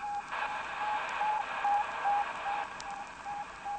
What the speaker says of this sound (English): recordings of the radio signals from man's first 5 space travelers